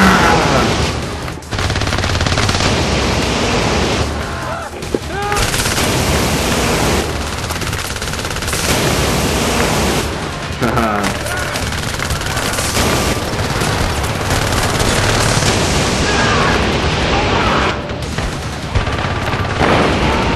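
Sustained gunfire in the Syndicate video game, a dense, loud wash of rapid automatic shots and booms that goes on nearly unbroken, with only brief dips in intensity.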